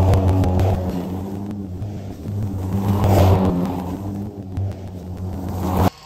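A lawn mower trims a lawn freshly filled with sod plugs, its engine a close, continuous rumble that swells and eases slightly over a few seconds before cutting off abruptly.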